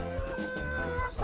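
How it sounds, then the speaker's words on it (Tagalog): A Rhode Island Red chicken on a small egg farm gives a short burst of close, throaty clucks, a few quick repeated calls over about a second with no talking. "Ito yung Rhode Island Red,"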